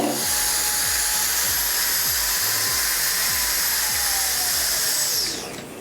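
A JisuLife Fan Ultra 1 handheld fan blows a strong, concentrated stream of air with a loud, steady high-pitched whine and rushing hiss, carrying on without pause for about five seconds before winding down at the end.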